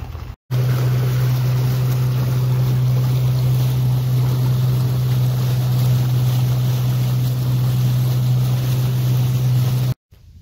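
A motorboat with an outboard motor travels across a lake toward an island. The motor holds a steady, loud drone under wind and water noise, cutting in just after the start and stopping abruptly near the end. There is no talking.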